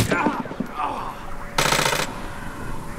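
Bursts of automatic gunfire in Hitman Absolution crack out over shouted voices, with a dense, loud volley in the middle and scattered shots around it.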